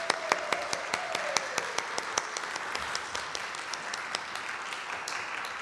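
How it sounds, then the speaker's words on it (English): Church congregation applauding the nativity players at a Christmas Eve pageant, a steady run of many hands clapping in a reverberant room, with a few sharp individual claps standing out. "Let's give our thanks to our wonderful nativity players with applause."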